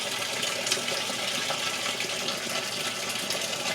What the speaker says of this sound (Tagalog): So, lalabas siya ng tubig.